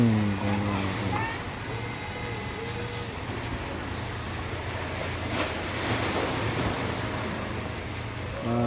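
Broad, continuous rushing of swollen river water, with voices talking faintly over it at times.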